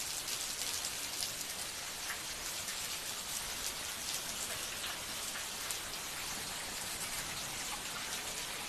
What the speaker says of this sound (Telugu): చూడండి మా ఇంట్లో దాకా వచ్చింది వాన, ఎంత బాగా కొడుతుంది.